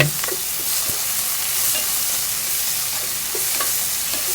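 Chopped tomatoes sautéing in a pan for a lettuce stir-fry, a continuous close hiss of frying with a few light spatula scrapes and taps, no voices.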